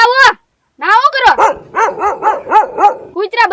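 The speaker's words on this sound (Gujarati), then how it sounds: "કૂતરા બજારતા લાગે" Dogs barking loudly and close by: a short bark, a brief pause, then a rapid, evenly spaced run of sharp barks.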